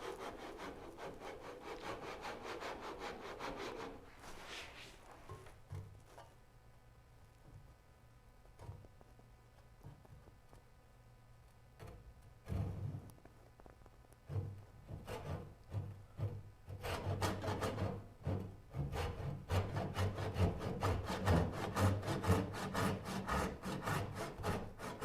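A hand saw cuts kerfs into wood for a Moxon vise. Quiet, rhythmic back-and-forth rasping strokes pause briefly midway, then resume faster and louder.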